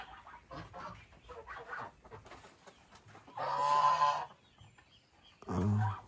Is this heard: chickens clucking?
yes